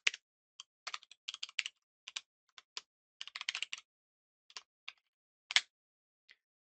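Keys clacking on a computer keyboard while typing code, in quick irregular bursts of close, crisp taps separated by short pauses, with no voice.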